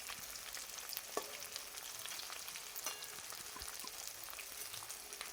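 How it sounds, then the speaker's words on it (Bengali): Potato pieces fry in oil until reddish, a faint, even crackling sizzle throughout with occasional light spatula ticks, no one speaking. "তো এটাকে বেশ ভালো করে ভেজে নেব লাল লাল করে আলুটাকে।"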